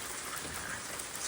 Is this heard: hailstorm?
yes